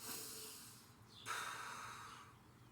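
Close, airy breathing: a long hissing exhale, then a sharp, deep inhale drawn in through the nose.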